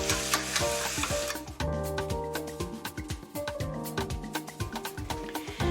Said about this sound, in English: Now your meat is starting to sizzle.